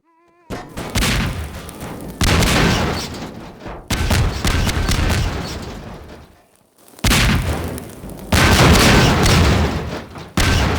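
Video game bombs blow up zombies in a series of loud, booming blasts, each burst of roaring explosion noise running a second or two before cutting to near silence and erupting again.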